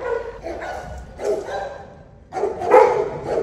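Police dogs barking and yipping in a kennel, several short bursts at close range with a couple of louder barks near the end, while people talk nearby.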